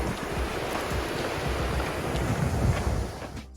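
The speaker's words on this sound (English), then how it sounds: "We've been commenting actually how fast flowing this water is." Fast-flowing river water rushes continuously near Wanaka, New Zealand, a dense, steady roar with some wind buffeting the microphone, with no voices.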